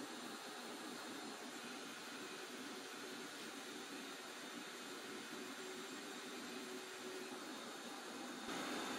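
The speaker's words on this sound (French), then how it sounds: "je l'allume et là, je fais circuler, donc j'appuie sur la gâchette pour que l'eau du tuyau se vide en aspirant la peinture" Airless paint sprayer running steadily as it circulates paint and flushes water from the hose, a loud continuous mechanical whir with broadband hiss for about nine seconds, no talking.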